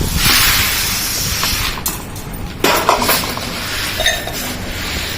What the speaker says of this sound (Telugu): అన్నీ మంచిగా కలిసేటట్టు కలిపేసుకోవాలి